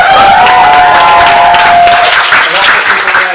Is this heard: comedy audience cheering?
yes